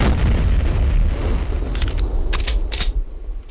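A pipe bomb goes off in Duke Nukem 64, a single loud, close boom followed by a rumbling decay with a few sharp crackles and pops trailing off.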